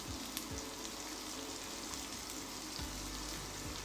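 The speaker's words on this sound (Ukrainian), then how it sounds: "Поки обсмажується цибуля, нарізаємо решту інгредієнтів." Steady, loud sizzling of onions frying in a pan, a dense crackling hiss that continues without pause and with no talking.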